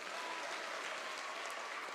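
An audience at a political campaign rally in Meru breaks into applause, a dense, sustained wash of clapping from a large crowd, even and steady throughout.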